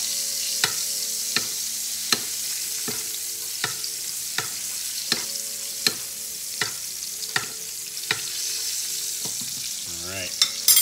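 A pork chop sears in a pan of butter with garlic and rosemary, a constant close sizzle broken by regular sharp clinks as butter is spooned over roughly every second, with a brief scraping rattle near the end.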